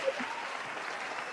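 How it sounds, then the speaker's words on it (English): Steady applause from an audience at a motivational talk, a dense, even patter of clapping that holds at a constant level for the whole moment with no voices over it. "Let me give you a well-deserved round of applause"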